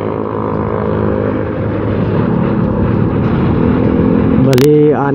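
Several motorcycles, including a Honda Airblade 150cc scooter, ride together on a road trip, giving a continuous loud engine and wind drone close by, with a brief rising whine near the end.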